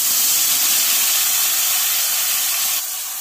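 Ground spice mix tipped into hot oil already fragrant with black and green cardamom, hissing in a loud, steady, dense sizzle that carries on unbroken and eases off slightly near the end.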